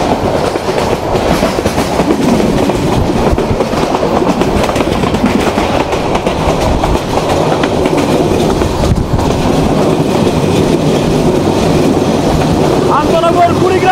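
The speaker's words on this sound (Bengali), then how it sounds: "আন্তনগর Kurigram express থ্রুপাস Chatmohar railway station" Intercity Kurigram Express train running through Chatmohar railway station, with loud continuous rumble and clickety-clack of wheels on rails close by, steady throughout with faint voices in the background.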